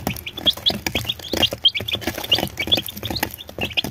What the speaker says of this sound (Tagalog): may manok din ako dito sa loob guys. Native na manok yan.